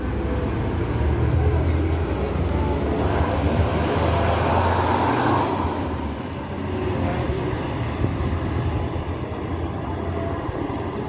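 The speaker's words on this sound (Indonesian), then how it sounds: "Ini bus Firkansa 42 ini bergelar Talenta bosku." A Firkansa 42 'Talenta' executive bus rolls along with a loud, steady low engine and road rumble that swells slightly midway and stays continuous throughout.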